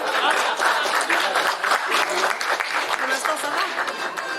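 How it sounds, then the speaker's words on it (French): Guests at a golden wedding anniversary party in Les Fougerêts, Brittany, give a brief round of clapping, a dense patter of many hands mixed with chatter and voices. "Un petit applaudissement."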